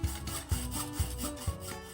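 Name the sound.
hacksaw cutting thin tubular metal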